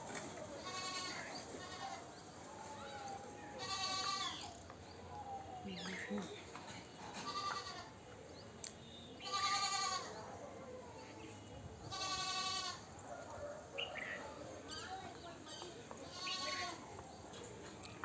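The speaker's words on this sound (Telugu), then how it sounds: "లోపల మేకలు అరుస్తున్నాయి," Goats bleat again and again inside a farm shed, loud, close, wavering cries coming in uneven bursts over steady barn background noise.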